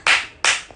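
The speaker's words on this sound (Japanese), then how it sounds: "拍手。" Two short, loud bursts of hand clapping, close and crisp, each fading quickly, heard alone during a live stream where a performer announces an upcoming show appearance.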